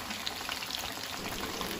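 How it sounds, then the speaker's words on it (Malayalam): Chicken 65 pieces deep frying in oil over a medium flame give a steady, close crackling sizzle with dense popping throughout and no talking. "നമുക്ക് കുറച്ചേ ഇട്ട് വറുത്തെടുക്കാം നമുക്കിനി ഇത് മീഡിയം ഫ്ലെയിമിൽ വെക്കാം"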